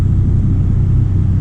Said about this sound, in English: Law of tonnage. That's a big rig.